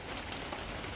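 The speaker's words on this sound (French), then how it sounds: "I actually love the rain." Steady rain falls across the whole second, a dense, even hiss of drops on a surface with no voices.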